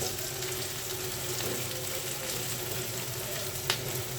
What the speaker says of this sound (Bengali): একটু ভালোভাবে ভেজে নিই